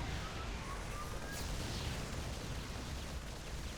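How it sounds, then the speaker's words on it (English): A Battlecruiser fires its Yamato cannon in the StarCraft II video game, a faint, muffled blast with a brief swell partway through, set among low game noise. "Go battle cruiser! Use your Yamato cannon."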